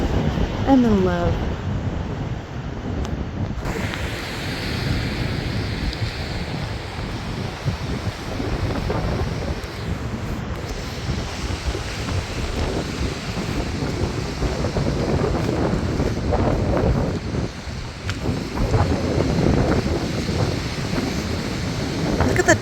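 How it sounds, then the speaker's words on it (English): Wind gusting along a waterfront, a steady rushing and buffeting with surf-like washes rising and falling for over twenty seconds, while someone talks over it. "It's definitely getting chilly and more wind. The wind is picking up."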